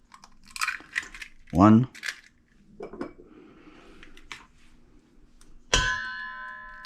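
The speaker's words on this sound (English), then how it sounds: "I'm going to start by cracking 2 eggs in a bowl" Two eggs cracked into a bowl in a home kitchen, a brief crunchy crack and wet drop followed by small clinks of dishes and utensils, close up and fairly quiet.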